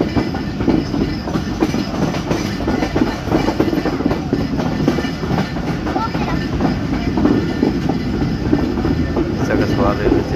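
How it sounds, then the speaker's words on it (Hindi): Pakistan Express train rolling through a railway station on the Dina to Rawalpindi line, a loud steady rumble with clickety-clack of wagons over rail joints close by, with voices faintly in the background. "सगर स्वाद रेलवे स्टेशन से पास हो रही है गाड़ी"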